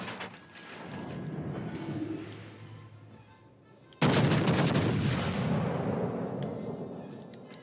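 Warship main guns fire in a naval video game, a sudden heavy boom that cuts in midway and rolls off into a long rumbling decay over steady background noise.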